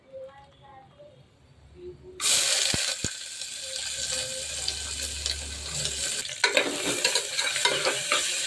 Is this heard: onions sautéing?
yes